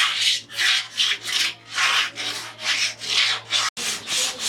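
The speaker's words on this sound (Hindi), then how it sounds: "डालने के बाद में हम इस रेगमार के हेल्प से इसे साफ करना स्टार्ट करेंगे।" Sandpaper scrubs an old aluminium wok in repeated hand strokes, a loud rasping swish rising and falling about twice a second, close up with no talking.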